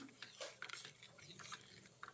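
Sambar mixture being stirred in a pot, soft close scraping and light clinks of the spoon against the metal in a short quiet burst, with no talking.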